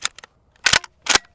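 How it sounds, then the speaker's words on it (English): A 12 gauge shotgun firing a slug outdoors, with sharp cracking reports at close range, a couple of small snaps first and then two loud blasts in quick succession that cut off abruptly into silence. "Moving up to the 12 gauge, shooting a slug."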